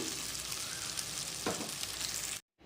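Small fish fry in a pan with a continuous hissing sizzle, and a brief scrape sounds midway through. The sizzle cuts off abruptly to silence just before the end.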